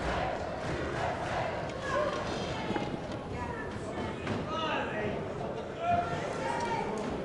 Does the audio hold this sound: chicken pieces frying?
no